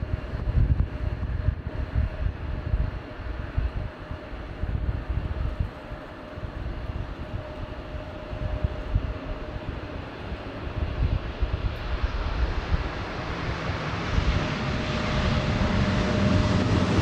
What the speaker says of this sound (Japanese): Go Around した A350 が再び侵入してきました。